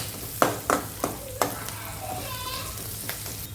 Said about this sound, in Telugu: పచ్చిమిర్చి, కరివేపాకు ఇవి కొద్దిగా ఫ్రై చేసుకుందాం.